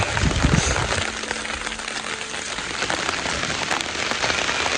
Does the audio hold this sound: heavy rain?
yes